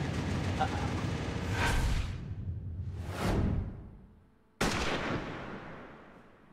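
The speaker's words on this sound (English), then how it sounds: "A sniper attack in this very courtroom." Sniper shots ring out in a courtroom in a video game, several loud booming cracks each trailing off in a long echo, with a sharp final blast after a brief silence.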